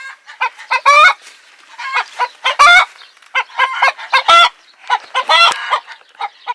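Hens clucking repeatedly in loud, close bursts around a broody hen's coop, a busy run of calls with short gaps between them, no voices.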